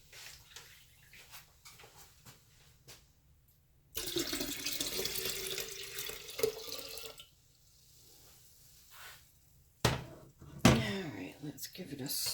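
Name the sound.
water being added from a tap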